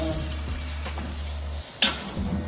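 Marinated chicken frying in a pot for biryani, a steady sizzle with stirring scrapes and a sharp clink of a utensil against the pot near the end.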